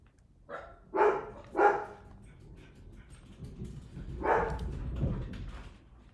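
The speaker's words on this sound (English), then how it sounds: "Sorry about the dogs barking." Dogs barking indoors during a live stream, a few loud barks in short bursts near the start and another cluster later, with faint movement between them.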